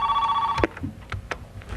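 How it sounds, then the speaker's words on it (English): An old-style telephone bell rings loudly in a continuous burst at the start, then cuts off, leaving quieter broadcast-studio room sound with a few knocks and handling noises. "we're going to see if we can correct this phone here so it doesn't ring in here"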